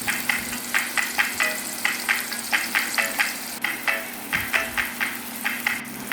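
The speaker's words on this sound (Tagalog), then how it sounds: "simulan na natin ang paggigisa ng bawang, sibuyas at luya." Garlic, onion and ginger sauté in a pan for a sardine dish, giving a steady close sizzle broken by regular scraping stir strokes, with no voices.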